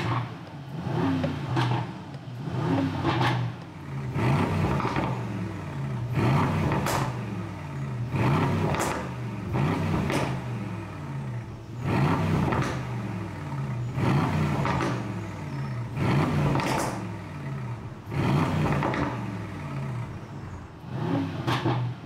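Aston Martin DBX four-litre V8 SUV exhaust revving repeatedly in a driveway, a deep menacing growl rising and falling in regular bursts, loud and close with no talk over it.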